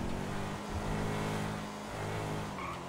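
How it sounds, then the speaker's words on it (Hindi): An electric car accelerates in GTA 5, a continuous engine-like drone with a whining, building tone and faint tyre noise, steady and fairly loud throughout. "गाड़ी का इलेक्ट्रिक साउंड है, लेकिन देखो जब तेज चलती है तो ढूम आवाज भी आ जाती है।"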